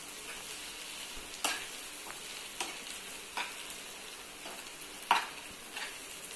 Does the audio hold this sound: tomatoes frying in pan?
yes